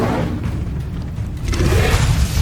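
Incendio fire spell in Hogwarts Legacy on PS5 Pro, a loud booming whoosh of flame with a dense low rumble swelling toward the end, brief and close.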